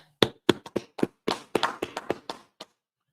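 A small group claps on request at a Biblical law class in Fayetteville, North Carolina. The claps come as about a dozen sharp, fairly close bursts of uneven rhythm over three seconds, then stop.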